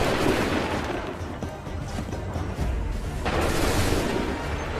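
Musket volleys ring out in a colonial-era battle in the video game Assassin's Creed III, a dense, continuous roll of gunfire and booms filling the whole stretch, with a fresh burst of shots swelling near the end.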